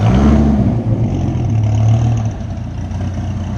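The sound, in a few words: 1995 Dodge Viper RT/10 engine running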